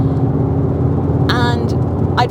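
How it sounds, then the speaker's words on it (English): Steady low engine drone of a Skoda Octavia RS TDI diesel, its tone shaped by a sound actuator, running continuously with brief bursts of speech over it. "This has got a sound actuator. Now, to be honest, it doesn't sound like a diesel."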